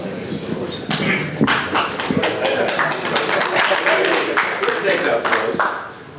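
Applause from a men's club audience at an introduction, a dense spread of claps with thumps and taps filling the room, steady and fairly loud throughout with voices mixed in.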